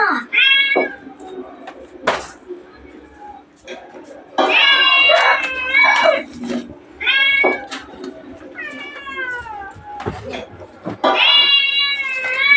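Repeated cat meows from a video playing on a TV, some drawn-out and pleading, come in bursts with short gaps, loud and fairly close.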